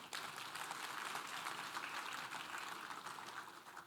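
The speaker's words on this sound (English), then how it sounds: "Let's give them a round of applause." A conference audience at a dispute resolution event in the Philippines applauds: a steady, dense wash of many hands clapping, fairly faint and distant, continuing evenly for several seconds with no voices on top.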